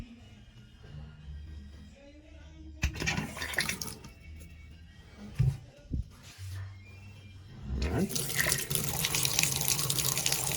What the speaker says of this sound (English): Turn on the spindle now to give us the water flow.